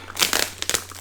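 Plastic wrapping crinkles close up as it is pulled off the box of TFZ T2 Galaxy in-ear monitors, a brief burst of crisp crackles with no talking.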